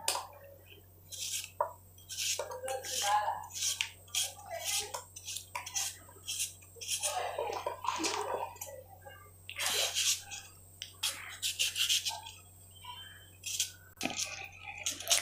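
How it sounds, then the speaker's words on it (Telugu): A knife chops yellow cucumber (dosakaya) and green chillies into pieces on a kitchen board, giving irregular quiet taps and clicks with faint clatter, fairly close. "ఇదిగోండి దోసకాయలు ఇలా ముక్కలు తరిగేస్తాను కదా, పచ్చిమిరకాయలు కూడా ఇలాగా తరిగేస్తున్నాను"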